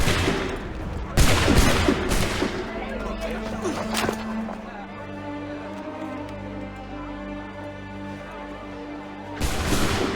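A musket volley in Assassin's Creed III bursts out as a loud ragged crash of shots, followed by a lower rumbling tail, and a second sharp blast near the end; voices are heard in between.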